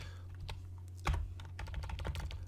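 Quick, close clatter of keys on a computer keyboard, typed in irregular bursts with a sharper thump near the middle, over a faint low background hum.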